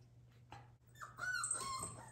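A seven-week-old Cardigan Welsh Corgi puppy whimpering on a table, a few thin, high rising whines and yips at close range over a low steady hum.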